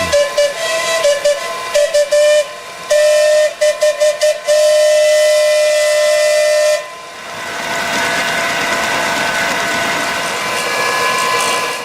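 Steam traction engines at a vintage machinery show sound a series of loud whistles, short bursts then a long steady tone, before giving way to a broad, continuous hiss of escaping steam.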